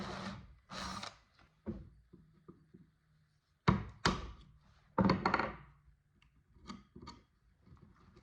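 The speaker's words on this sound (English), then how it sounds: "I drill out the broken part that is left in the leg of the nightstand" Drilling out broken wood left in the leg of an 1800s Dutch nightstand during restoration: short bursts of a hand drill biting into wood, separated by pauses, clunks and handling noises, up close.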